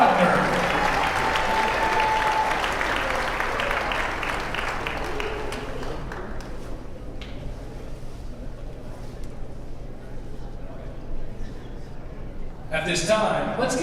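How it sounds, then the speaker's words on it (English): A crowd in a gym applauds for a senior on a girls' high school varsity basketball team, loud clapping and cheering that gradually fades to a quieter murmur, with an announcer speaking over it near the end. "let's give all of our seniors a round of applause"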